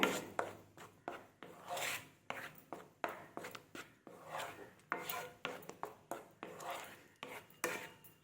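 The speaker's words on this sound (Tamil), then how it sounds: "நம்ம போட்டிருக்க காய் பழம் எல்லாமே வந்து இந்த பச்சை மணம் போகிறவரில் நல்லா கிளறி விட்டுடலாம்" Fruit and sugar for homemade jam being stirred in a pan make quiet, rhythmic rubbing scrapes, about two strokes per second repeating steadily, close but faint.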